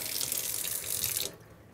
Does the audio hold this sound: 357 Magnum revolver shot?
no